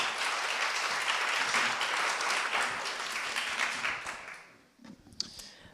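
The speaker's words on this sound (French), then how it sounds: "Je peux les applaudir." Audience at a Masteos talk evening applauding as guests are welcomed onto the stage, a dense steady wash of clapping that thins out and fades near the end, with a few scattered last claps.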